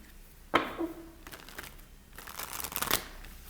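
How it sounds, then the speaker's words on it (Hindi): Tarot cards shuffled by hand in a quiet room: a sharp riffle snap, then a short lull and a longer run of papery flicking and sliding, close and moderately loud, with no speech. "वैसे तो आपके कार्ड्स मैं ऑलरेडी शफल कर चुकी हूँ, थोड़ा और हमने कर लिया है"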